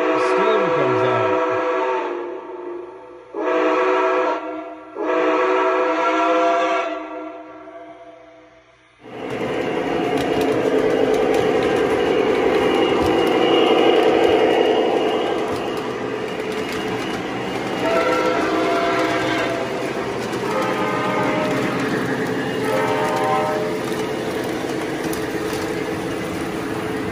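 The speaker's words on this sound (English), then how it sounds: "when you blow the whistle, steam comes out" A steam train whistle sounds in several loud bursts close by, then the train rumbles and clatters along steadily with a continuous roar that persists to the end.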